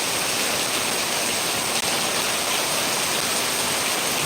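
Heavy rain pours without pause in Manjeri, Kozhikode, a loud, dense, even roar of falling water that fills the whole stretch, with one tiny dropout partway through.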